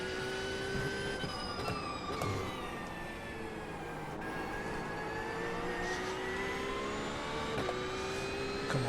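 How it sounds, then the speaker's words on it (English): A Porsche race car in the iRacing game spins its wheels at the start of an IMSA race at Daytona, giving a steady, loud engine roar with whining tones that runs unbroken throughout. "Ooh, big wheel spin."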